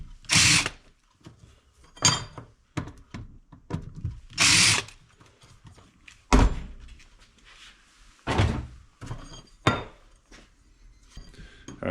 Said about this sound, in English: Let's go ahead and deburr it.